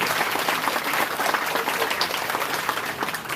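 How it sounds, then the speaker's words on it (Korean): Audience applause welcoming local council chairs at a party convention, a thick, continuous clapping of a large crowd, loud and even throughout. "자, 박수로서 환영해 주십시오."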